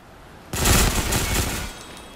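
Automatic rifle fire from a weapon tried out in Ghost Recon Phantoms, one loud, sustained burst of rapid shots that lasts just over a second and then cuts off sharply.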